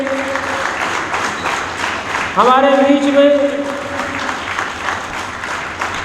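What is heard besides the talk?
applause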